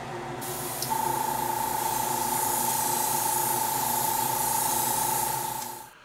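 An airbrush sprays paint or clear coat onto a scale model in a single long, steady hiss lasting about five seconds, close and even, with a faint compressor hum beneath it.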